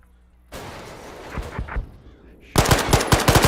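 Machine gun fire in a military video game combat operation in Chernarus: a burst of somewhat distant automatic fire, a short lull, then a much louder, rapid close-range burst of shots.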